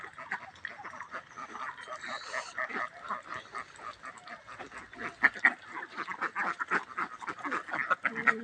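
Ducks on a Bangladeshi duck farm, gathered where they bathe, keep up a dense, continuous chorus of quacking and honking calls, moderately loud and steady throughout.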